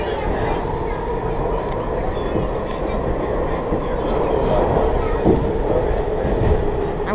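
A WMATA Rohr subway car on the Red Line rolling through a tunnel, a steady loud rumble with faint clickety-clack throughout, heard from inside the car.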